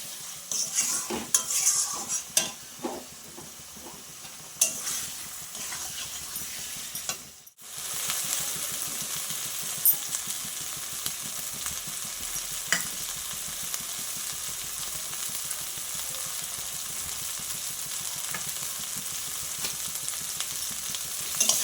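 Katla fish curry masala with potatoes sautés in oil, with busy clattering stirs and scrapes of a spoon against the pot over a steady frying sizzle, then a brief pause and a long, even sizzle.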